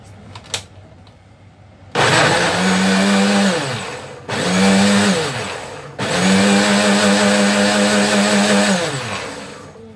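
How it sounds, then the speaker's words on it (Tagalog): A kitchen blender whirs through avocado and banana for a milkshake in three loud, close bursts, the motor whining up and bogging slightly as the fruit churns, with brief pauses between pulses and no talk. "i-blender muna natin bago natin haluan ang Herbalife"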